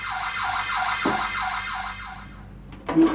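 A car alarm wails in steady repeating sweeps, loud and close, then cuts off, followed by a sharp knock near the end.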